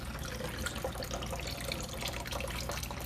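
Water draining off a paper-making screen after the pulp is stirred, a continuous close splashing trickle and patter that stays steady for the whole stretch.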